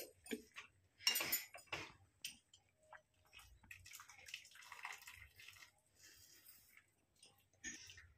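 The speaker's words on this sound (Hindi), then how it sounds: "इसमें ठंडा पानी डाल दिए हैं, अभी फ्रेश हो जाएगा पूरा।" Cold water is poured and splashed over strained chow mein noodles in a kitchen, giving soft, intermittent watery splashes and trickles at a fairly quiet level.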